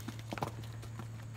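A horse's hooves clip-clop on the ground in a few quick, uneven steps, moderately close, over a steady low hum.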